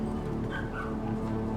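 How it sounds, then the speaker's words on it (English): Dogs bark and whimper faintly somewhere in the background, their short yips set against a steady hum of game music and room noise. "And the dogs are gonna bark."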